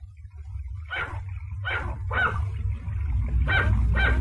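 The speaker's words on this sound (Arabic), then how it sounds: "الكلب هو بال" A dog barks five times in short bursts, fairly close, over a low background rumble.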